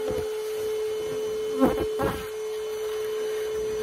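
Honeybees hum steadily around a comb during a colony cutout, with a couple of brief knocks and scrapes partway through.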